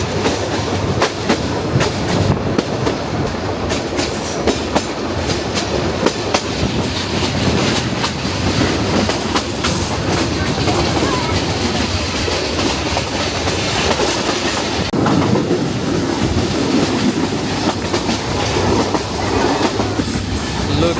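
A passenger train travels on rails from Dhaka to the north of Bangladesh, loud and close from inside the carriage, with steady rumbling and rhythmic clickety-clack of wheels over track joints throughout.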